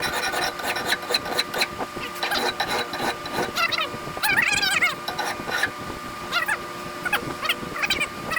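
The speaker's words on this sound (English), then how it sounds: "Now I just need to take the file and run it down and put that final edge on there." A metal hand file runs down the edge of a homemade stator splitter, producing loud, close, repeated rasping strokes in a steady back-and-forth rhythm.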